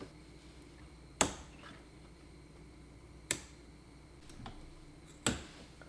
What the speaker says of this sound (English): using my cutters, I'm gonna just cut this